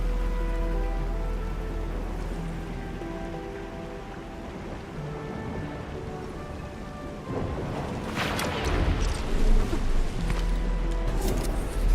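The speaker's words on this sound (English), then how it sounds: "It's raining harder. I can't hear anything except for the rain." Heavy rain pours steadily in the video game Arknights Endfield, a dense continuous wash with low rumbling underneath that grows louder and harsher toward the end.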